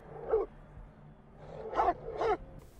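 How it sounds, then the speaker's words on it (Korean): A dog barks somewhere out of sight in wild, hilly country, giving three short, faint barks with a pause after the first. "어디선가 들리는 댕댕이의 소리."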